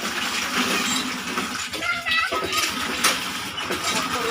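Fish pieces are washed one at a time in a bucket of water, with close splashing and sloshing and small clinks under nearby talk and a voice.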